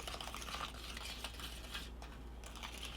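A brush or whisk stirs sandy kaolin clay hair lightener in a bowl, giving soft, continuous scraping and clinking close by, with a low steady hum underneath.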